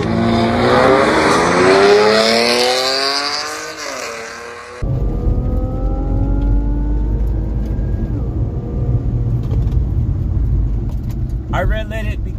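An Infiniti Q60 and a supercharged Dodge Charger drag racing, engines revving hard and climbing through gears, then a cut to a passing car's rising engine whine and a brief tire chirp near the end, with voices in places.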